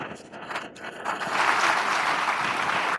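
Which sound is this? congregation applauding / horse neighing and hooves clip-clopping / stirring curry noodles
congregation applauding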